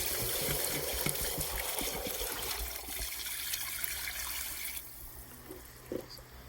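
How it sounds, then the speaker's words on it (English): Water is poured into a cooking pot of beef nihari, a soft, steady trickling splash heard close but faint, tapering off with a few small drips and clinks. "We will now add a bit of water. some water."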